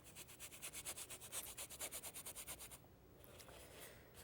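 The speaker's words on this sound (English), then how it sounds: "You can hear me scraping it and scratching it right into the canvas." A painting tool scrapes and scratches thin paint medium into a canvas in a quick, rhythmic run of close, dry strokes, then stops, leaving a few faint scuffs in quiet.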